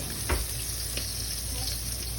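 Floured, salted and peppered chicken pieces fry in olive oil in a frying pan, giving a steady, even sizzle with a soft crackle near the start, close and continuous.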